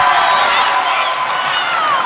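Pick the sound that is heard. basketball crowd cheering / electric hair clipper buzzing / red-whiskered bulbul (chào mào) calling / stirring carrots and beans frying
basketball crowd cheering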